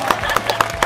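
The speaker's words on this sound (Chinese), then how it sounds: "鼓掌。" Brief applause from a small group gathered at a sidewalk event, a quick burst of several sharp claps over under a second, with a voice speaking over it.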